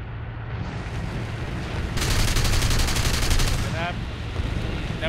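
Rapid gunfire from a Bf109F4 fighter in War Thunder bursts in over a steady engine drone, a loud sustained volley of about two seconds that then cuts back to the plane's hum.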